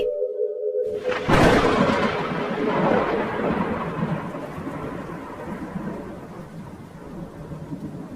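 Steady rain pours with a loud crack of thunder near the start, the rumble rolling on and slowly fading under the downpour in a horror story soundtrack set on a rainy drive home from a wedding reception.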